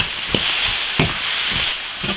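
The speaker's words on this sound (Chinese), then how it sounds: "先把备料炒至断称" Duck-tongue seasonings of salt, soy sauce, Sichuan pepper powder and five-spice being stir-fried in an iron wok, a steady sizzle punctuated by several scraping stirs of the spatula.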